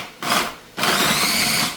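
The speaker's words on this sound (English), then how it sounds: "I'm just gonna blend it up." A countertop blender whirs through tomato in two bursts: a short pulse, a brief pause, then a steady loud run of the motor that carries on to the end, with no talking.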